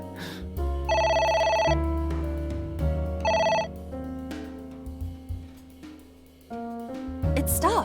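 Telephone ringing inside the video game AI: The Somnium Files, a repeating electronic ring in bursts that stands out loud against steady background game music.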